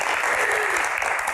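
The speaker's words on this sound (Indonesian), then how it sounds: "Tepuk tangannya mana?" Studio audience of students at an Indonesian TV talk show breaking into loud, dense applause that holds steady for the whole stretch, a broad wash of many hands clapping at once.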